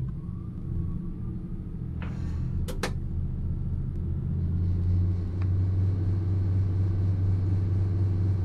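A diesel train's engine in Train Sim rumbles low and steady with the throttle left open on the Exeter to Paignton line, the drone swelling slightly, with a brief faint ding early on.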